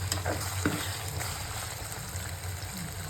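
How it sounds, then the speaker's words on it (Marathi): Vegetables hitting hot spiced oil on a street-style pav bhaji tava, a steady loud sizzle and fry with stirring scrapes near the start, close and continuous with no talk. "आता ह्याच्यामध्ये आपण सर्व वेजिटेबल्स ॲड करणार आहोत"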